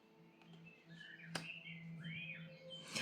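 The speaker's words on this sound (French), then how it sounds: "aux oiseaux, tels que tu peux les entendre là." Birds chirp and tweet in short bright calls, one sweeping whistle standing out, over a low steady hum with a sharp click midway.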